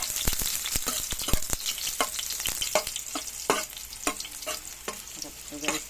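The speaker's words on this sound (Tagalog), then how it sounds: "Igisa na natin ang bawang." Garlic sautés in a pan, with a soft frying sizzle beneath repeated sharp clacks and scrapes of a utensil stirring against the metal.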